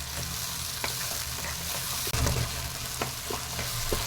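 Chopped tomatoes sauté in a pan with ginger garlic paste for chenna masala, giving a steady close sizzle with scattered scraping stir strokes and one sharp clack partway through, no voices.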